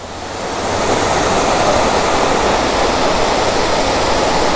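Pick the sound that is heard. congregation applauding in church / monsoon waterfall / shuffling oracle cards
monsoon waterfall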